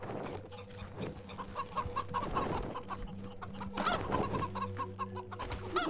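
Chickens clucking in the Wasteland 3 video game, repeated short clucks over a busy ambient game soundscape, fairly close and steady throughout.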